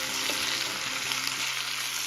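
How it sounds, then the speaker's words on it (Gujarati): Cabbage and potato curry frying in a pan, a steady dense sizzle filling the short stretch with a few soft scrapes of stirring mixed in, close and even throughout. "કોબીને બટેટાના શાકને આપણે મિક્સ કરી લેવાનું છે."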